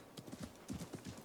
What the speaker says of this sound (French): Le cheval de mon père.